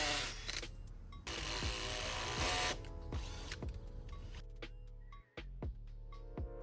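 A power drill whirs loudly in sustained bursts, boring holes for rebar while building a shed, revving and stopping, with clanks and knocks of handling between runs.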